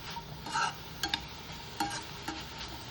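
A utensil stirs beans seasoned with chili powder in a pan, with a few sharp scraping clicks over a soft sizzle, quiet and close.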